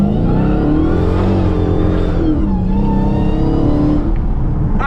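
A tuned Dodge SRT Hellcat Charger roars hard and close throughout, its engine note climbing and dipping through gear changes as the car accelerates and spins its tires, with a sustained loud rasp and no talk.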